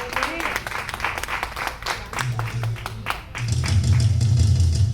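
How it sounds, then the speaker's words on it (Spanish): A church congregation breaks into clapping, a dense burst of applause with audible individual claps, joined by voices and a swelling low hum toward the end. "Denle un aplauso al hombre de Dios."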